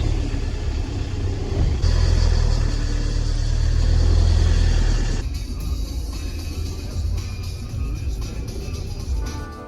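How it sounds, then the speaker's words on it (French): Steady road traffic in Montenegro, cars rolling past with a continuous low engine and tyre rumble that swells, then eases to a quieter flow, with no talk. "C'est de la circulation aujourd'hui."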